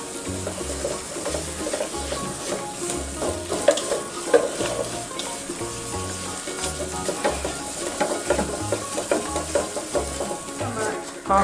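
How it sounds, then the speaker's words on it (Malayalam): A spoon scrapes and stirs a thick coconut and jaggery halwa with cashews in a pan over a low flame. The scraping is rhythmic and close, with a light sizzle and soft background music underneath. "ചെറിയ ഫ്ലെയിമിൽ വെച്ച് നമുക്ക് ഇളക്കി കൊടുക്കാം."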